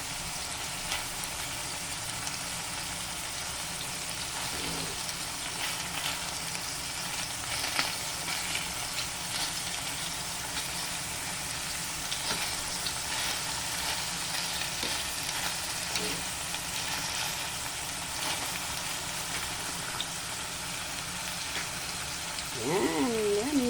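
Pork steak sizzles in its rendered oil in a pan, a steady dense crackle and spatter running unbroken and close throughout.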